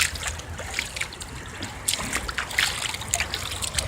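Floodwater trickling and splashing through a park near a playground, a steady close babble with scattered brighter splashes and no talk.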